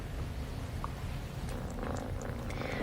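A cat purrs steadily up close, a low continuous rumbling texture with faint incidental sounds above it and no talking.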